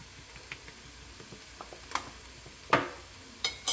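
Paella spices stirred into chorizo and onion in a pan: a soft, low sizzle with scattered clicks and scrapes of the spoon, a few sharper knocks standing out near the end.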